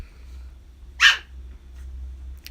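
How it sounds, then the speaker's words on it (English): A single sharp dog bark rings out, fairly close, against a quiet low hum. "Excuse my dog, she's very rowdy today."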